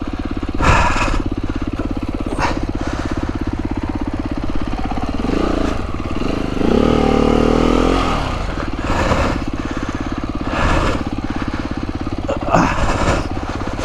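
Motorcycle engine running steadily through a ride, a continuous loud drone that swells briefly as the revs rise, with people talking intermittently over it.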